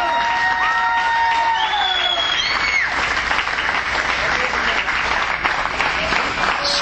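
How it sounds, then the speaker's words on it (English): Loud, continuous applause from a crowd at a live NWA Southern All Star Wrestling show, mixed with scattered cheers and whoops that carry on unbroken for several seconds. "Millsville, don't just applaud me."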